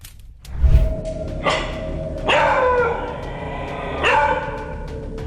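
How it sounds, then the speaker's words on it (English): A dog lets out several loud, close barks in separate bursts, with a low growl at the start and short ringing gaps between barks, no one speaking. "Every night, the dog would wake up barking and growling at something in the kitchen."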